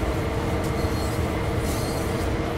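Steady rumble and rolling rail noise of an old Clinchfield diesel locomotive hauling a train in Train Sim World 2, continuous and fairly loud with faint wheel squeal and no voices.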